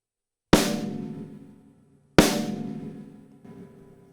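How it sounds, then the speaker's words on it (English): Two separate snare drum strikes in the center of the head without the rim, each a sharp crack with a full body ringing out and fading slowly; a lighter tap follows near the end. "If you don't hit the rim and you just hit the center of the drum"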